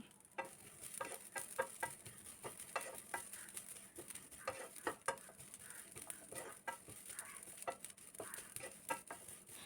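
Grated coconut, ginger and shallots roasting in a pan, with soft continuous sizzling and repeated scraping stirs of a spoon, irregular and close, no voices.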